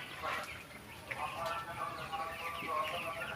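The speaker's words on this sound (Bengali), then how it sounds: "আমি একটা ব্রয়লার মুরগির খামারে আছি" Broiler chickens on a chicken farm cluck and chirp in a steady, overlapping flock chatter that stays at moderate level throughout, close by.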